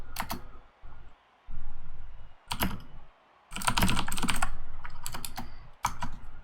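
Fast clattering keystrokes on a computer keyboard come in bursts separated by short pauses, loud and close-miked with a faint hum beneath, no voice over it.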